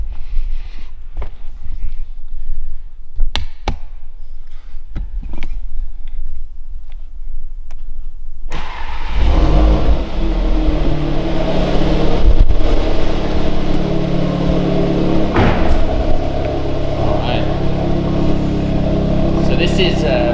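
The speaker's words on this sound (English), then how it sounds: "Let's start the car." The engine of a Mk3 Audi TT with valved exhaust cranks and fires up around the midpoint, then settles into a loud, steady rumble with some revving after a quieter stretch of clicks and ticks.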